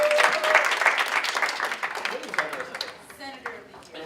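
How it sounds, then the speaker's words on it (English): Applause in a student senate chamber, a crowd clapping steadily and fairly close, tapering off toward the end. "give a round of applause to Senator Zepeda"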